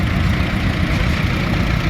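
A 1937 tractor assembled from component parts, with a Chrysler flathead engine and Dodge drivetrain, idles at an outdoor antique tractor show; a steady, dense low rumble holds at constant loudness for the whole stretch, close by and alone.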